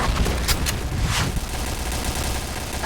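Rapid bursts of video game gunfire crackle over a dense, noisy background, with a few sharper shots standing out early on.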